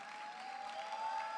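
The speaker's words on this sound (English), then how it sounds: "A round of applause for her, please." Audience applause at a conference, a steady wash of clapping with a faint sustained tone running underneath, all through a short stretch.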